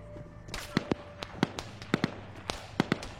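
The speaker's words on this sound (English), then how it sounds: "grenades are going on the cache" Grenades blast on a cache in a video game, producing a quick series of about a dozen sharp, loud pops and bangs in irregular rhythm over low background noise.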